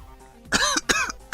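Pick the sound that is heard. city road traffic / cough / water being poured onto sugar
cough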